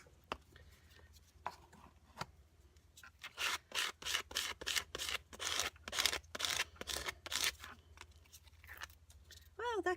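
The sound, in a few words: scraping paint onto a mixed media collage page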